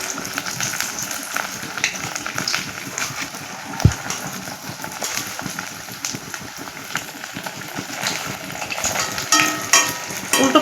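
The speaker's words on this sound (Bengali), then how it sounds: "উল্টো পাল্টা করে এই বড়াগুলো মুচমুচে করে ভেজে নিব।" Jute leaf fritters frying in hot oil, a steady crackling sizzle with occasional clinks of a utensil turning them.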